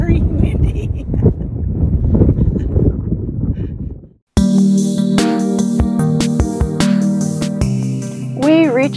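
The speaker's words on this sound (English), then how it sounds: "Very, very windy." Heavy mountain wind buffeting the microphone near a summit in rough, continuous gusts with voices underneath, then a sudden cut to a different, music-like tonal passage.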